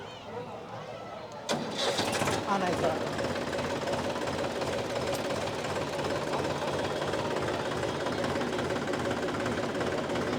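A tractor engine cranks and catches about one and a half seconds in, then runs on in a steady loud rumble for the rest of the demonstration at an agricultural fair, with someone speaking briefly over it.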